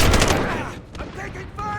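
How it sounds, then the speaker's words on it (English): Rapid, loud gunfire crackles in Call of Duty: Modern Warfare (2019), in a 64-player Ground War match on Karst River Quarry. The shots come as dense overlapping bursts that are strongest at the start, then thin out and trail off. "I'm taking fire!"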